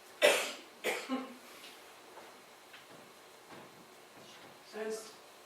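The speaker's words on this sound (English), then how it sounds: "let me turn this off while I cough" A couple of sharp coughs close by, followed by quieter throat clearing and small shuffling sounds.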